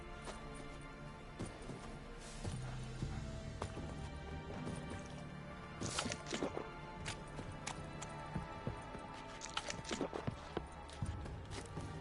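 Horse hooves clip-clop in The Witcher 3 as a steady, irregular thudding over a busy game background, with occasional sharper knocks and crashes mixed in, moderately close and fairly quiet overall.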